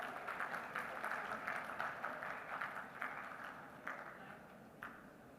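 An audience at a maritime conference applauds steadily, a continuous even wash of many hands clapping at moderate distance, with a few sharper claps standing out toward the end.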